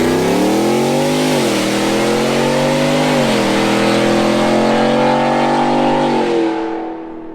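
A Ford F-150 pickup fitted with a Corsa Extreme exhaust revs and accelerates hard, its loud engine note rising and dipping through several pulls for about six seconds before fading away at the end.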